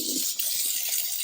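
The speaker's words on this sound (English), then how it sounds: "Let's just run some hot water on here and melt the grease" Hot water running from a tap into a sink while a greasy griddle sits at the bottom, a steady close hissing splash with a few small gurgles.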